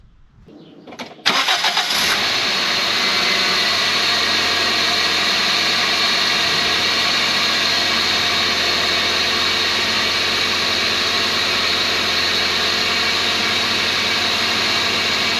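A Toyota Corolla GTI E100 engine with its air filter removed cranks and starts, then runs on with a loud, steady rushing intake and engine roar that fills the whole clip.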